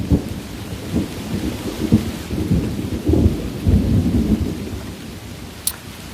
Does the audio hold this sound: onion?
no